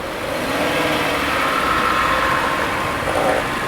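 A Subaru Crosstrek's engine runs steadily while the throttle is held open during a CV axle check, a continuous close drone with a faint whine, no voices.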